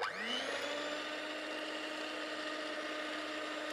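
An electric dough mixer kneading yeast dough, spinning up from a rising whine into a steady motor hum with a grinding texture, close and continuous with no speech.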